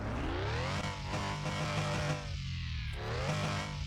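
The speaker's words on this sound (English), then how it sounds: "let's jump in at this BAJA edition and see what the engine sounds like." Porsche 911 RS America Baja edition engine in the game Car Mechanic Simulator 2021, revving loudly with rising and falling pitch sweeps and a brief dip before climbing again, heard alone without talk.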